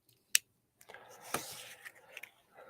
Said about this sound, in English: Take a pair of scissors